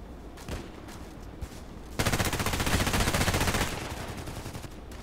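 Rapid automatic gunfire in a first-person shooter game, opening with a few scattered shots and then breaking into a sustained, loud burst of fast repeated fire around the midpoint that tapers slightly toward the end.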